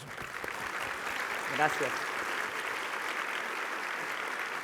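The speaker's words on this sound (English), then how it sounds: "Please give them a round of applause." Audience applause for conference panelists at a breakfast session fills the clip as a steady, dense wash of clapping from a sizable crowd. A single voice speaks briefly over it.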